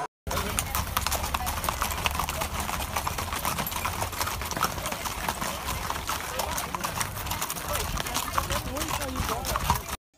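Horse hooves clip-clop in a quick, steady rhythm of close clopping that runs continuously the whole time.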